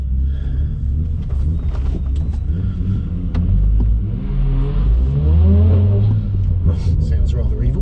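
BMW M140i engine revving up and settling back, a deep rumbling growl with a rising and falling pitch sweep near the middle, loud and close, as someone talks over it.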